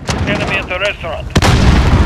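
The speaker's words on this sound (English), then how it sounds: "Enemy cluster strike." Explosions from a cluster strike in Call of Duty Modern Warfare team deathmatch, a sharp loud blast followed by a rumbling barrage, preceded by game voice chatter and close by.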